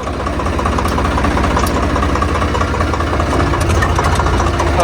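New Holland tractor engine fitted with a new original silencer, running steadily nearby with a loud, even low rumble and knocking throb throughout, faint voices underneath.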